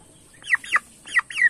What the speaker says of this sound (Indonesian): Ini ayam ulu. Ayam ulu yang kita tetaskan sendiri